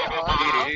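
A goose gives a short, harsh, nasal honk, close and fairly loud, lasting under a second.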